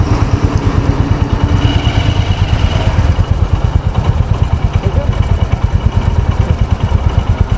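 A motorcycle engine runs steadily at a petrol pump, a loud close rhythmic idle throb that continues throughout with faint background noise.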